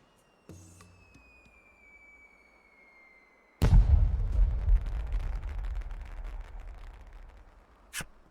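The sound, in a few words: fireworks set off in the video game Voice of Cards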